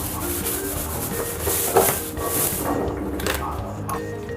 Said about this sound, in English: I'm going to hit it with a bit of 600 grit sandpaper just to make sure that everything is smooth